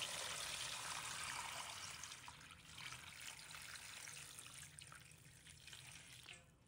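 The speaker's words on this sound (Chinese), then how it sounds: "倒入清水，让水没过盖兰" Clean water pours from a tap into a basin of Chinese broccoli, a steady rushing gush close by that softens into quieter trickling toward the end, with no voice.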